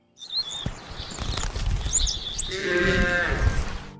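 A flock of sheep herded by an old shepherd bleats in a rural farm setting, with several overlapping bleats rising over the second half, mixed with faint chirping and rustling, fairly close.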